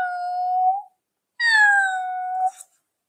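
Cat meowing twice, a short steady meow followed by a longer, brighter one after a brief pause, close and clear with no talking.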